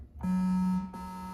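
A steady electronic tone from a MIDI-controlled hybrid synthesizer sounds alone, holding for about half a second, then drops to a slightly lower sustained pitch after a brief break.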